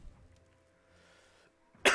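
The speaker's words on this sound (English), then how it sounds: "Did I just cough and that guy died?" One sharp cough bursts out near the end after a mostly quiet stretch of faint game sound from Swords and Souls Neverseen; it is brief, close and loud.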